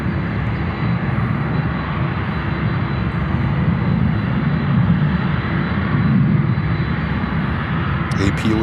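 A heavy jet airliner bound for Tokyo and fully fuelled for a twelve-hour flight, departing Chicago O'Hare: a loud, steady, broad engine roar that holds for the whole stretch with a deep rumbling low end.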